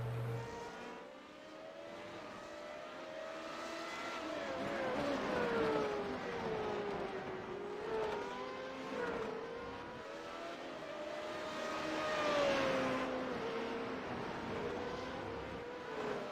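Formula 3.5 race cars in a racing game sweep past with rising and falling engine whines, two swells of high-revving noise building and fading as they pass at the Japanese Grand Prix at Twin Ring Motegi.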